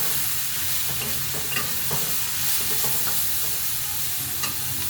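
Water spinach greens fry and get stirred in a pan, a steady loud sizzle with scraping stir strokes throughout and no talk.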